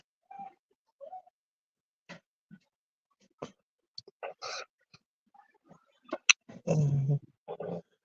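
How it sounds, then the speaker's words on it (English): A dog in a kennel makes short, scattered low growls and grunts, brief sparse bursts in an otherwise quiet room with a slightly longer rumble near the end. "you guys hear my dog, she's fine. She's just in her kennel."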